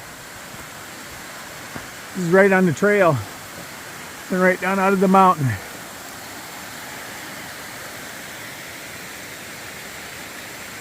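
A waterfall swollen by heavy rain rushes beside the Appalachian Trail in the mountains, a steady broadband roar filling the whole stretch, while someone speaks briefly over it twice.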